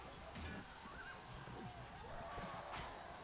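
Horse in the Roma Surrectum battle game whinnying with a rising, wavering call, mid-distance amid clashing battle noise and faint background voices.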